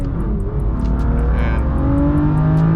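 A BMW M2 Competition driving and accelerating, its engine a steady loud drone with rising tone, heard from inside the car, close and continuous with no talking.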